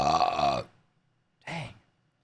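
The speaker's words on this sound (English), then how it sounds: "Guys, I can't help burping." Two close, loud burps, a long drawn-out one followed after a short pause by a briefer second one.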